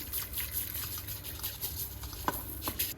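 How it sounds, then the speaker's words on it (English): Stock being poured into a Ninja Foodi pot, a soft steady trickle and splash of liquid with a few small drips, close and fairly quiet, with no voices. "I'm going to pour in my stock"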